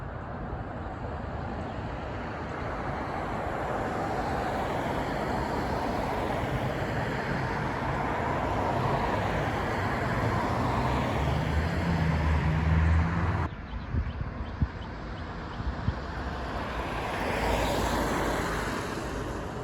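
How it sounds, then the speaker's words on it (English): Real cars driving past outdoors, recorded for game sound effects: a steady broad roadway rumble builds and swells for about thirteen seconds, then drops abruptly to a quieter traffic hiss with another car approaching near the end. "I went outside and I recorded some sound effects of some real-life cars"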